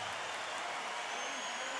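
Applause from a boxing crowd at the MGM Grand after a super featherweight title fight, a steady dense wash of clapping that fills the whole stretch at fairly low level with no voice over it.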